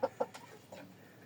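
Young April chicks growing into roosters give two short, sharp clucks close by, followed by a couple of fainter calls.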